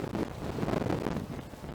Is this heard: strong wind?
yes